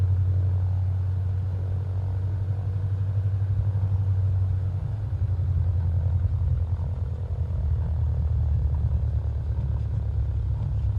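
Small single-engine Robin DR400-100 Cadet light aircraft in a flight simulator, its propeller engine droning steadily and loud through a takeoff roll at Welshpool, a low continuous hum with a slight shift in pitch midway.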